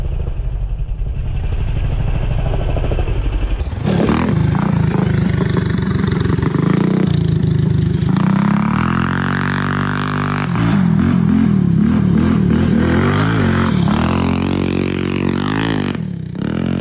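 TrailMaster Hurricane 200X mini bike with a Tillotson engine, idling quietly at first, then revving hard and loud up close with rising and falling pitch as it accelerates.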